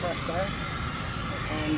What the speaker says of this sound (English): you're just going to listen to the sound of the aircraft